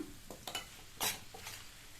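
Turnip sabji with chopped coriander leaves being stirred in a pan, a few quick spatula scrapes and clinks over a light sizzle, close and brief.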